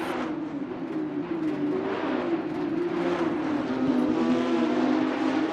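Porsche race cars cornering at Spa in Assetto Corsa, 2021 Porsche Supercup, a continuous loud droning engine note from a pack of cars, steady and close without commentary.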